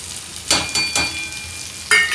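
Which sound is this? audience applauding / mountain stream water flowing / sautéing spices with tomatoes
sautéing spices with tomatoes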